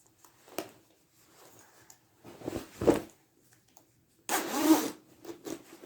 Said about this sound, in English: But it zips now, which it didn't before.